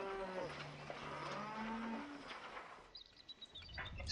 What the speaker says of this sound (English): Stupid cows.